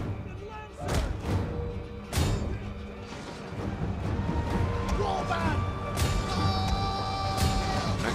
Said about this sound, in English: we're just sitting here taking artillery fire and skirmish fire